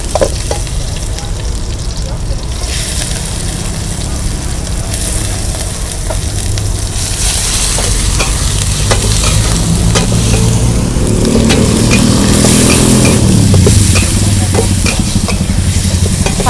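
Loud, continuous sizzling of Thai basil stir-fry with offal cooked in a hot wok at a street food stall, with scraping clinks of a utensil against the pan throughout.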